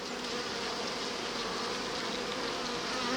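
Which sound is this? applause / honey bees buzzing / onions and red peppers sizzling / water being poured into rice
honey bees buzzing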